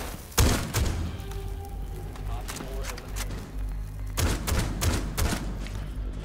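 Gunfire in Rainbow Six Siege, with sharp close shots in clustered bursts over a steady low rumble and some faint talk.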